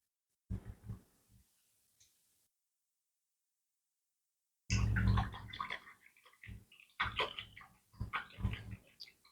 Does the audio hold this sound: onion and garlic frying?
no